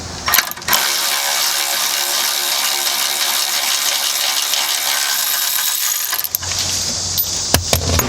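A ratchet wrench loosens a bolt on a car's lower control arm, giving six seconds of steady, rapid, close-up clicking that ends abruptly, followed by a few separate sharp clicks.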